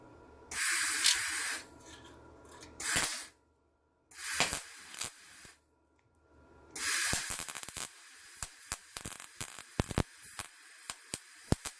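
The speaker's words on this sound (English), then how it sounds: "Oh yeah, we got weld now. All right, let's weld it on there." A Harbor Freight Titanium 140 MIG welder laying weld, with several long bursts of loud crackling hiss separated by short pauses, then a run of rapid sharp pops and spits near the end.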